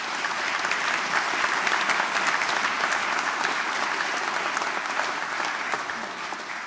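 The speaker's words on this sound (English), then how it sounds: "Let's give them another round of applause" Applause for law graduates at a School of Law graduation ceremony, a large crowd clapping loudly and steadily throughout, dense and sustained with no break.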